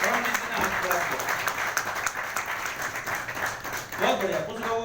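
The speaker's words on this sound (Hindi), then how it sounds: "जोरदार तालियां दो" Audience at a motivational speech in Mussoorie clapping loudly for a man who raised his hand, a dense continuous wash of applause with voices mixed in underneath.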